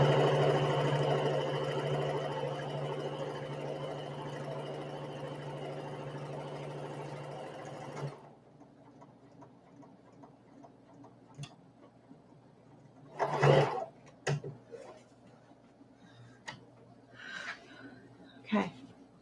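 Sewing machine stitches in a steady, buzzing run for about eight seconds, then stops, leaving near silence broken by a few soft knocks and rustles.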